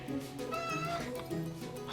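A cat meows several times in a row, fairly close and clear, with faint background murmur between the calls.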